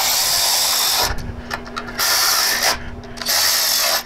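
A Harley Touring part is fastened down with a ratchet, its bolts tightened after chrome parts were swapped for black powder-coated ones. Several bursts of loud, close ratcheting clicks are separated by brief pauses.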